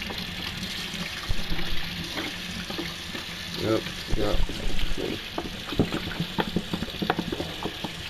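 Water runs steadily from a tap as a baseball cap is rinsed under it, a faint broadband hiss with irregular splashes and trickles, and a few brief spoken words in the background.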